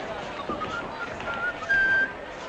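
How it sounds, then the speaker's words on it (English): A man in a 1949 western saloon scene whistles a few faint, wavering notes over a low room murmur, then ends on a louder sustained note near the end. "Don't whistle too hard, Jake."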